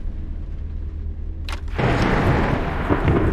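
Thunderstorm in the horror video game MADiSON, heard at a grandfather's house: a low steady rumble, then a sudden loud crack and a broad roaring rumble of thunder that carries on to the end, with no talk.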